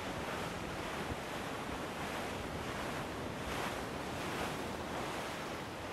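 Ocean waves and gusting wind in the pirate video game Assassin's Creed 4 form a steady, dense wash of surf and rushing air with no talk.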